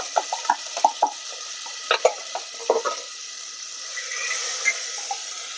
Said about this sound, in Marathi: आता हे वाटण घातल्यानंतर आपल्याला 1 ते 2 मिनिटे परतून घ्यायचं आहे